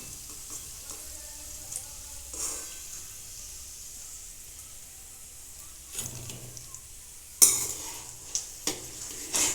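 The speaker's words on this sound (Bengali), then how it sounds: "বাকিগুলোও আমি একইভাবে ভেজে নেব" Khasta gaja sweets frying in a pan of oil, a steady close sizzle throughout with occasional clinks and scrapes of a spoon moving the pieces.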